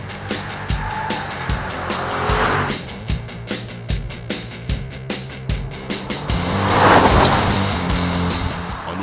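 Audi S7 Sportback (2012) with its V8 driven hard, engine rumble rising and falling with repeated sharp pulses like gear shifts, then a louder surge of revving toward the end, fairly close and with no talk.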